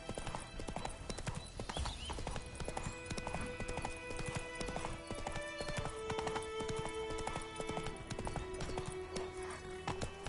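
Roach, Geralt's horse in The Witcher 3: Wild Hunt, trotting with dense rhythmic hoof clops throughout, loud and close over steady game ambience and music tones, with a faint whinny.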